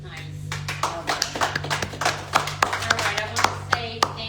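Audience applause for youth teams at a teen truth circle event, a few seconds of scattered clapping with irregular individual claps over a low steady hum, moderately close.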